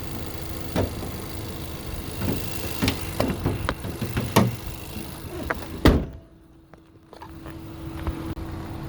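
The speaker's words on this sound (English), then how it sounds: "today we have a 2020 Nissan Rogue Sport. And that is running smooth as could be" 2020 Nissan Rogue Sport engine idling smoothly at close range, a low steady hum broken by several clicks and knocks and a sharp door-like thud before a brief quiet gap.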